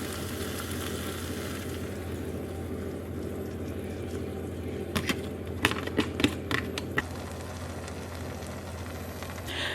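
Eggs frying and being scrambled in a pan for a low-carb meal: a steady, close sizzle runs throughout, with a short burst of sharp spatula clicks and scrapes in the middle.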